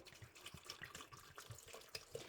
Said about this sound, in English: next what we're going to do is pour some clean water